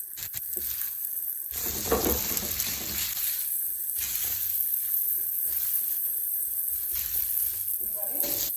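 Batter for a gharikachu (taro) chapta frying in hot oil spread across a tawa, giving a steady broadband sizzle with periodic surges and scraping stir sounds, no talking.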